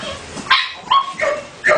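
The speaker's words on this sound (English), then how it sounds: "Got some more puppies over this here." Pit bull puppies give four short, sharp yipping barks in quick succession, close to the microphone, with faint background noise between them.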